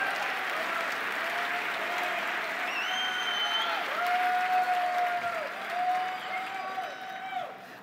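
A congregation at a men's church conference breaks into sustained applause, a thick, even wash of many clapping hands with faint crowd noise and soft sustained musical tones threaded underneath.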